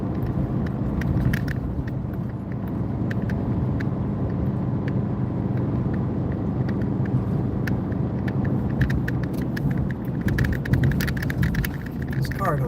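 A car engine runs rough, giving a steady low rumble close by with irregular ticking and knocking bursts that grow busier toward the end.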